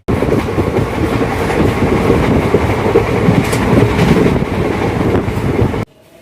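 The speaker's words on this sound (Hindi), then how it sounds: "क्या तेज़ भाग रही है ये ट्रेन" The 05810 Guwahati–New Bongaigaon passenger special in Assam runs at speed, with steady loud rumbling and rhythmic clickety-clack of wheels on rail heard from inside the carriage, cutting off abruptly near the end.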